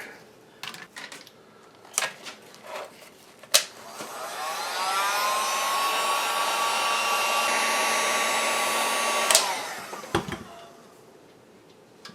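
A hair dryer runs for about six seconds with a steady loud whoosh and whine while warming a seat back strip on a 1994 Saab 9000. Clicks and handling knocks come before and after it, and no one speaks.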